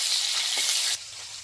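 Fish pieces frying in hot oil in a kadai, a steady dense sizzle that drops abruptly to a quieter crackle partway through, with no talking.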